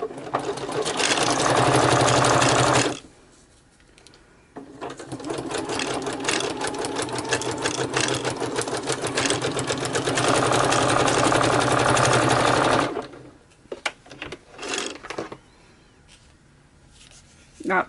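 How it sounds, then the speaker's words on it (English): A domestic sewing machine running a zigzag stitch, a loud close mechanical whir in two long continuous bursts separated by a pause, then short stops and starts. "And I'm going to widen it a tad because I want to, and put it a little bit closer, the zigzag portion."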